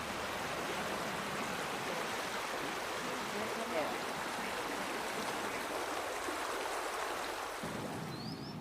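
River water runs steadily as a broad, continuous rushing wash, close and even throughout, with no voices over it.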